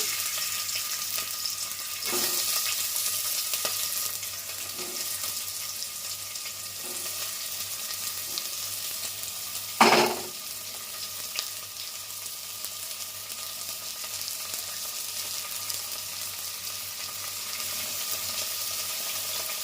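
Onions fry in hot oil with a steady, soft sizzle throughout, broken by a brief louder clatter midway and faint scattered ticks.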